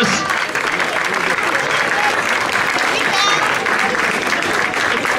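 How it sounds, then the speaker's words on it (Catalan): A crowd applauds the women champions at a trophy ceremony after a race at Alguaire airport, the clapping continuous and even throughout, with a voice speaking over it. "Aplaudiments per elles,"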